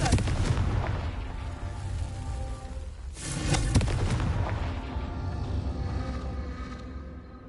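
Confringo fiery blast spell exploding in Hogwarts Legacy, a loud booming burst with a roaring rumbling tail that swells again midway before fading.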